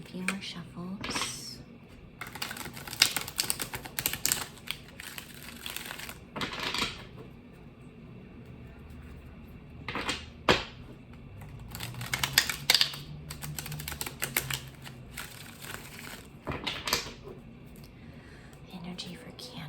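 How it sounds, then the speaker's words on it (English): Tarot cards are shuffled in quick bursts of crisp riffling and tapping, close and moderately loud, with soft whispered speech between the shuffles. "Just do a few more shuffles."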